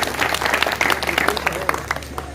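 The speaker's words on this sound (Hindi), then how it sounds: "आपकी इजाजत हो तो ताली बजाकर बताइए।" Audience at a Janmashtami fair speech claps in a short, uneven burst of distinct hand claps, fairly close and loud.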